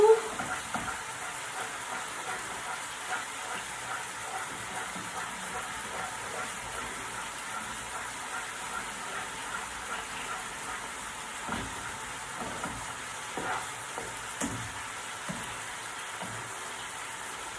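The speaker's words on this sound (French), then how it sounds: "Mes lardons aussi sont bien en train de cuire." Lardons for a chayote gratin fry steadily in a pan, a soft continuous sizzle with small pops and crackles, fairly quiet and unbroken by talk.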